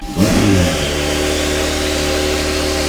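A supercar engine fires up with a sharp, loud rev, then settles into a steady, throaty hum that holds for a few seconds before cutting off. It is heard close by, with no talking.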